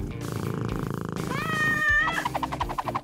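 A cat character in the Smiling Critters video game gives a rumbling purr-like sound, then one clear drawn-out meow in the middle, followed by soft rhythmic game sounds.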